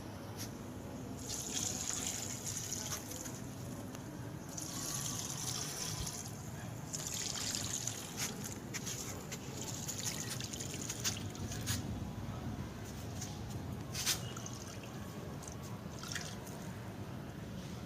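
Water is poured and splashes steadily, with trickling and occasional drips, fairly quiet and close.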